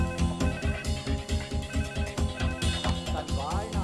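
A telephone ringing in a comedy film scene, heard as a steady electronic ringing pattern blended with a busy, loud soundtrack, with rhythmic pulses throughout.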